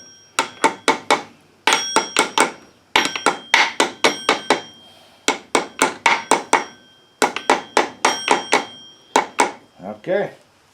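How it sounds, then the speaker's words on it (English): An oversized hammer taps a seal into a Cub Cadet gear drive transmission in quick bursts of sharp metallic strikes, several clusters separated by short pauses, close and clear. "I know this hammer's way oversized for this job"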